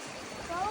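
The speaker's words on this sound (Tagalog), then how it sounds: "Ayan, mga ilog." Rushing river water flows steadily along a mountain hiking trail on Mt Talamitam, a close, continuous broadband wash with faint tonal whistles near the end.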